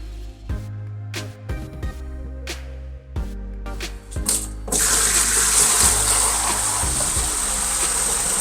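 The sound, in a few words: water rinsing Chemi Pure filter media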